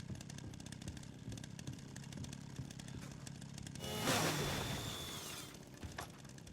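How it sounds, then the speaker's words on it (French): A chainsaw in the video game Resident Evil Requiem drones with a buzzing engine throughout, then swells into a louder revving burst before settling back to a steady idle. "Mais qui prend une tronçonneuse dans un hôpital?"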